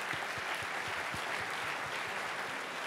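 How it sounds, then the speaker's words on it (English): Audience applause at an evening awards programme with a keynote lecture: dense, steady clapping from a crowd fills the whole stretch at an even level, with no voices over it. "An applause for everybody."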